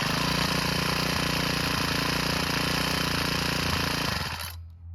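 A Troy-Bilt tiller's hot small engine runs loud and steady at close range with a rough, constant mechanical rattle, then is abruptly shut off and dies away.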